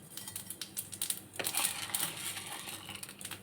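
Mustard seeds crackle and pop in hot oil for tempering a tapioca sundal, with dense, irregular spluttering that builds into a brief louder burst midway before settling into a steady close sizzle.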